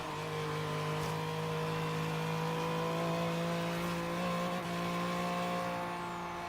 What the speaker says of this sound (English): you could hear the whistle of the turbocharger and the engine